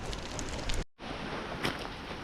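Heavy rain pours down outdoors during a fishing trip on the Cumbria coast, a dense hissing wash that is loud and continuous apart from one brief cut near the start.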